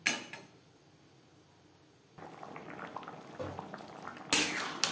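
Thin fish curry with kohlrabi and potato simmering in a pot: a quiet low bubbling at first, then a denser steady boil with scattered small clinks, and a sharper clatter near the end.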